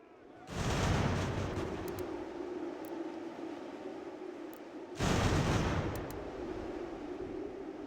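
An artillery battery firing in the game Ultimate General: American Revolution, two heavy booming blasts a few seconds apart, each followed by a long rumbling roar that slowly fades.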